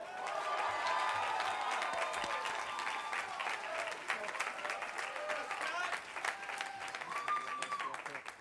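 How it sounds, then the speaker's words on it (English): Audience applause at a Princeton class day ceremony, a broad wash of many hands clapping with some cheering, heard from a distance and tapering off slightly toward the end. "give a round of applause for Mr. Scott Wolman"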